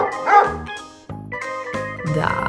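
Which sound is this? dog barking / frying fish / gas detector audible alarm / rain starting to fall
dog barking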